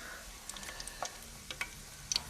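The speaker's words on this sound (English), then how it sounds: "And you can hear them popping and sizzling in the pan." Quiet, steady sizzle of zeppole dough balls frying in a pan, with small scattered pops and crackles breaking through, no voices.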